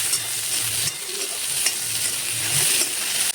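Okra frying hard in a hot pan over a high gas flame after a squeeze of lemon juice and a pinch of salt, a steady close sizzle with the occasional scrape of stirring and no talk.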